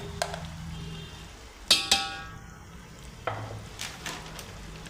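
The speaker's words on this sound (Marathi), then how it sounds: "आता हे हा मसाला या फोडणीमध्ये आपण भाजून घ्यायचा आहे" Spice masala with onion-garlic chutney and chilli powder roasting in a tempering for sprouted moth bean curry, a soft sizzle broken by a few sharp clinks of a spoon against the pan.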